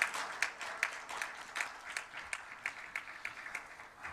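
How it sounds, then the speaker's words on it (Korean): A church congregation claps for several seconds in a warm send-off during a youth worship service, steady scattered hand claps at moderate distance with no talk over them. "우리 많은 박수로 격려 부탁드리겠습니다"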